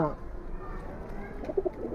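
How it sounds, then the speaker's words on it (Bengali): Domestic pigeons, a gifted pair of loft birds, coo softly in a low throaty rumble near the microphone, with a couple of clearer coos standing out toward the end over faint background murmur. "এটা ভাই গিফট করা কবুতর"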